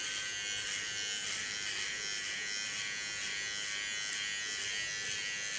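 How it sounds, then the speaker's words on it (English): A small electric hair clipper buzzes steadily and close while trimming stray hairs along the neckline of a blunt bob, a continuous even whine with no talking. "a small clipper, I take away the hairs that go in the opposite lines"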